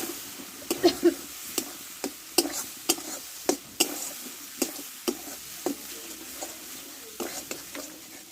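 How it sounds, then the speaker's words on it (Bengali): Spice paste for a fish, potato and eggplant curry frying in a pan with a splash of water, soft sizzle under repeated sharp clinks and scrapes of a spoon stirring at a fairly regular pace. "অল্প একটু জল দেবো অল্প দেবো মশলাটা মশলাটাকে ভালো করে কষে দেবো"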